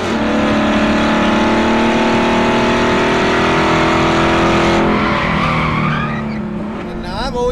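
A Chevrolet Corvette C8 fitted with a Borla sport exhaust roars loudly and holds a high, sustained engine note. The pitch shifts and the note trails off toward the end.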